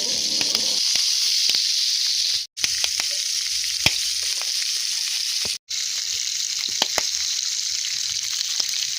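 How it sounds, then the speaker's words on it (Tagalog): Pork liempo frying in oil in a pan, a loud, steady close-up sizzle and hiss with scattered pops and crackles, briefly cut out twice, with no talk. "At iprito dito ang pork liempo."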